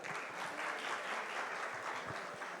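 At an energy awards ceremony in Lahore, an audience applauds as the Governor of Punjab arrives, producing a dense, even wash of many hands clapping that carries steadily throughout.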